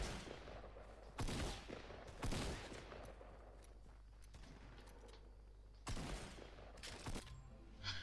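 Shotgun blasts in a shooting video game, a few loud broadband bursts spaced apart over a steady low background hum, with no talk.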